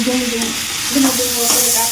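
Rice frying with spices in a pan for a Bengali fish-head ghonto: loud, continuous close sizzling with stirring scrapes throughout and a faint tonal hum beneath.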